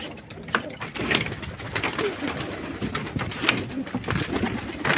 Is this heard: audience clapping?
no